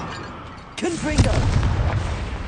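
A Confringo spell in Hogwarts Legacy erupts as a sudden booming blast, followed by a sustained rumbling roar with a spoken voice over the start.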